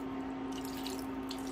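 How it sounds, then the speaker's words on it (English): Half a cup of water pours into a pot of chicken curry, giving a continuous close splashing trickle over a steady low hum. "I'm gonna add up like 1/2 cup of water"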